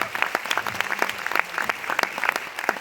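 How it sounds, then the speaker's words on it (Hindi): An audience at a business success seminar breaks into loud, sustained applause, many hands clapping in a dense, lively roar with occasional sharper claps standing out. "जोरदार तालियां बजा दो यार"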